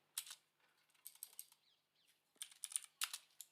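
Code being typed on a computer keyboard in quick bursts of close, crisp key clicks, separated by brief pauses, with no talking.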